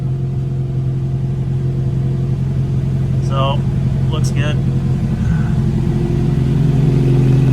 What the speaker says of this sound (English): Idling a little high, but coolant temp's coming up